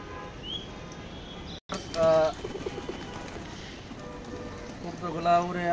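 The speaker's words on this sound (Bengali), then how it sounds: "কবুতরগুলা উড়ে আবার চলে আসছে" Racing pigeons at a flying loft give soft coos and short bursts of wing flapping, close by, while someone talks over them.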